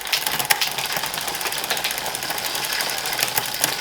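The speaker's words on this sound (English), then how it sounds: "let's just wang this up and down the gears a few times" Gears on a Planet X road bike shifted up and down repeatedly, a fast ticking, clicking whir of chain and freewheel with sharp clicks as the derailleur moves.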